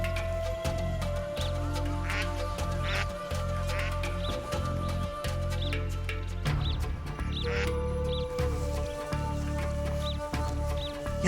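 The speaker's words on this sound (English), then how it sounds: "I can already hear the ducks calling" Yellow-billed ducks calling around a dam, rhythmic nasal quacking calls repeated in bursts over a steady low drone, fairly close, with no speech.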